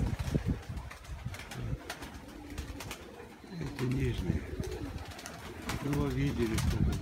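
Pigeons coo repeatedly in low, rolling bursts, some close by, over a busy outdoor background with voices talking.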